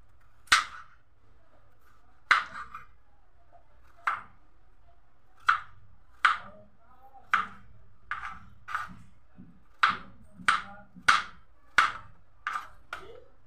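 A potato is chopped on a cutting board with sharp, loud, close knife strikes, about a dozen spaced irregular chops at a steady working pace, with near silence between them.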